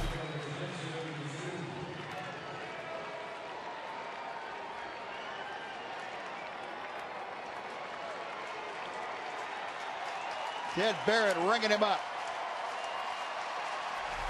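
Baseball stadium crowd at a Reds–Rangers game in Texas rising to its feet, a broad, continuous roar of cheering and clapping under a play-by-play commentator's voice, with a brief louder vocal burst near the end.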